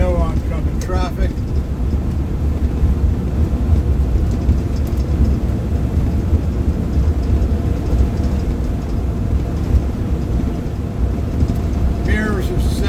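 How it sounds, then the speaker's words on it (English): Steady road traffic rumbles past a cyclist after several rainy days, a continuous broad wash of vehicle noise at moderate distance with faint chirps at the start and end and no distinct passes. "Traffic."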